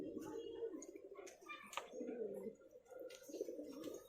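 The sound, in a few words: pair of dhumma pigeons cooing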